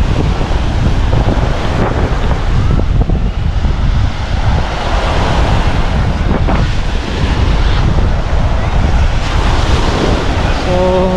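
Steady roar of ocean surf breaking on a beach in Rosario, Cavite, continuous and loud, with wind buffeting the microphone throughout.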